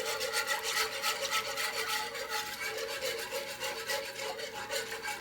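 A whisk rasps rhythmically and continuously through beef broth in a pan for baked steak, a close, steady scraping stroke with no voices.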